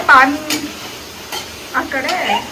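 Pulao cooking in a pot, stirred with a utensil: short scraping stirs and clanks over a soft sizzle, close and fairly loud, with a voice briefly talking in the background.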